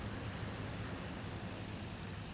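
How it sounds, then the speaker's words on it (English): Steady engine drone of an IL-2 airplane in flight in a video game, a constant broad roar holding level throughout with no voices. "The IL-2 is a pretty easy airplane to land."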